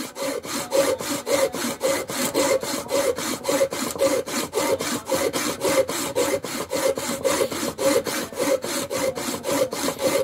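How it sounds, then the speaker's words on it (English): Hand file scraping a metal throwing knife blank flat in a room, about thirty steady, rhythmic rasping strokes back and forth, close and moderately loud. "You just gotta file this flat, really."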